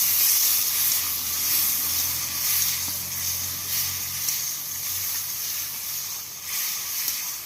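Ginger, garlic and poppy seed grinding water poured into a hot pan sizzles and hisses steadily for several seconds, a loud, close, continuous frying sound with no talking.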